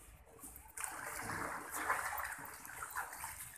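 A child swims and splashes in water at a park, producing a continuous rushing, churning wash of water that swells and surges at close range.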